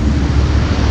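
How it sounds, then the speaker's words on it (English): A rocket's loud, continuous roaring rumble, heavy and close, rolling steadily through its full length with no voices. "Rocket."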